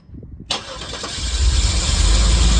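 The Guanci SSJ "Corvette killer" prototype car engine cranks and catches after a short quiet moment, then settles into a loud, rough, steady idle close by.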